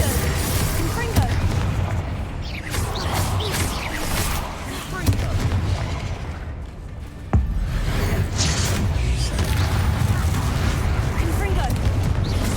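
Confringo spell blasts in Hogwarts Legacy during a hard-difficulty fight: dense, continuous booming explosions and sharp impacts layered over battle noise, with shouted spell incantations throughout.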